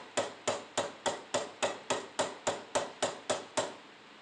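Thirteen sharp, evenly spaced hammer taps ring out in a steady rhythm as a razor blade is driven into a knife handle held in a vise; the strikes are close and crisp, with no voices.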